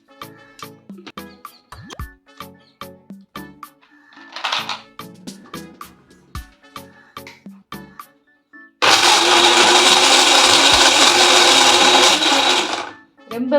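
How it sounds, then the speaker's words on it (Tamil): A blender whirs loudly and continuously for several seconds, blending ice apple (nungu) sarbath with squeezed lemon and ice cubes. Before it starts, sharp clicks and knocks come from handling the jar and lid. "இப்போ இதை நல்லா பிளெண்ட் பண்ணி எடுத்துடலாம்."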